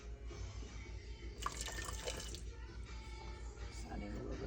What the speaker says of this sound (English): Just adding a little bit of water.